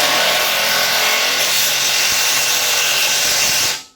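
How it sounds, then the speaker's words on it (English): A power wrench torquing the bumper bolts on a hot rod Dentside truck, producing a continuous loud grinding, rattling whir that holds steady for several seconds before cutting off abruptly at the end. "what you want to do with these bumper bolts is just torque them"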